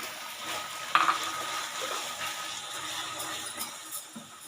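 Milk poured into a hot pan for Bengali mishti doi, a soft splash followed by steady sizzling and stirring scrapes, fairly faint and continuous with no talking.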